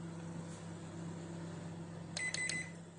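An oven's control panel gives three short, bright beeps in quick succession as it is started, against a low steady hum in a quiet kitchen.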